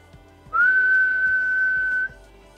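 A steady whistle held for about a second and a half into a Baofeng UV-S9 Plus handheld radio during a deviation test, one clear sustained tone, loud and alone over faint background hum.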